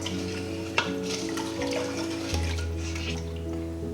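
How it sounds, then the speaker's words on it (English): Raw cane sugar syrup stirred in a pot over high heat, heard as a steady close bubbling hiss with a low hum beneath and a few soft clinks. "On high heat, I'm going to stir this until the sugar is dissolved and the liquid is hot."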